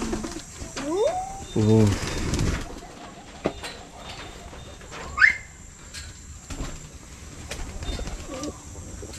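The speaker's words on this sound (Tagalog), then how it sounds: "Pigeons, pigeons ta pigeons." Pigeons coo in soft rolling bursts near a zoo enclosure in Loboc, Bohol, with a child's brief exclamations and other faint chirps around them.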